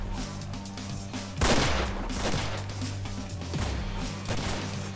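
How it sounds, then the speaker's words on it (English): Gunfire in Vampire the Masquerade Bloodlines, a loud close burst followed by a string of rapid shots and impacts over a steady droning background, with no talk. "They are shooting the guy."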